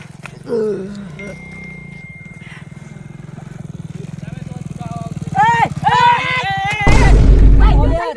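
A deep, pulsing tiger growl rumbles steadily and swells into a roar. Excited voices shout over it, and a loud rough burst comes near the end.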